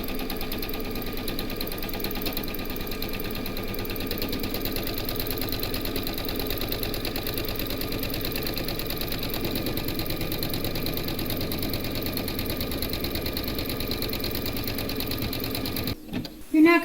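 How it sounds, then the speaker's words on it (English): An embroidery sewing machine stitches a hooped quilt block with batting in a steady, continuous mechanical whir and rapid needle rhythm, running evenly throughout before stopping abruptly near the end with a few handling clunks. "pop it in your machine and stitch round number 4"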